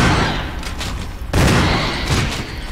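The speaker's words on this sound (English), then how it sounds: "3 shots should do them in." In Resident Evil HD Remaster, a few booming gunshots land against hunters in a hallway. A loud close blast stands out midway, with other reports around it over a dense, noisy background.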